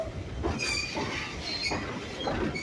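The Rockland Railroad train at Stone Mountain Park rolls along with a steady rumble and clatter of its wheels. High metallic squeals rise and fade several times over the running noise.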